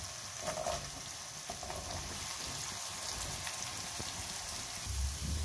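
Turnip pieces sizzling in a hot pan, a faint, steady crackling hiss running throughout with a few small pops, quiet and continuous with no voices.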